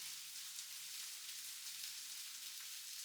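Shallots sizzling in a covered pan over lowered heat, a soft, steady hiss with a faint crackle, quiet and unbroken from start to end.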